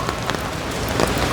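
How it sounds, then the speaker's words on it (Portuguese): Rain patters steadily on Copacabana streets in Rio, a close, dense hiss with scattered louder drop impacts, no voices. "Então eu vou fazer esse videozinho aqui com vocês mesmo, andando aqui nessa chuvinha"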